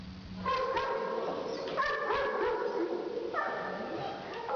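Dogs at a newly opened dog shelter in Zemun bark and yip in close succession, with some whimpering, while people talk over the noise.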